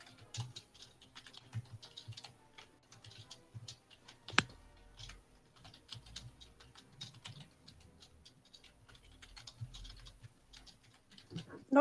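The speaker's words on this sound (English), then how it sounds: "I am typing." Someone types on a computer keyboard in irregular quiet bursts of clicks, close and soft in a hushed room.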